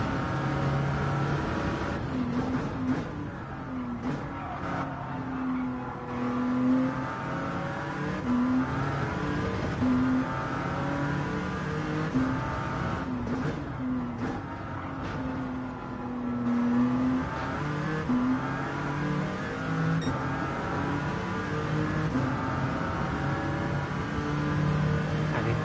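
A race car in Gran Turismo 7 laps Daytona with a continuous, loud engine drone that rises and falls through gear changes and revs, heard steadily throughout.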